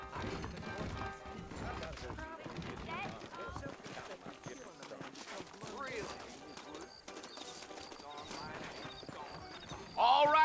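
Horses' hooves clip-clop in Red Dead Redemption, a steady rhythm of hoof falls under a constant musical and ambient game bed, with a brief louder burst at the very end.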